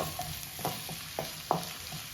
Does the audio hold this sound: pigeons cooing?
no